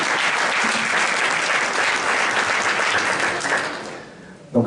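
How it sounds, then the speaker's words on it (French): An audience at a blogging event breaks into applause, a dense, loud burst of clapping that holds steady for several seconds and then tapers off, with a voice briefly audible near the end. "Oui, ça s'applaudit, oui."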